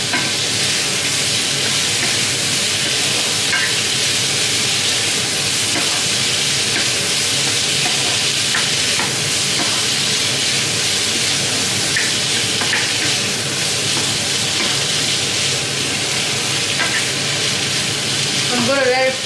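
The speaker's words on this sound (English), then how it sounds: "I'm going to let it fry a bit." Green beans for Nigerian fried rice frying in a pan, a loud, continuous sizzle and hiss with occasional faint clinks, steady for the whole stretch.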